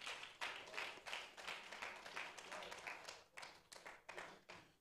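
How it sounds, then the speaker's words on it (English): A church congregation claps quietly and steadily at the close of an Easter sermon, the claps falling in an even rhythm. "Give a big round of applause in the mighty name of God."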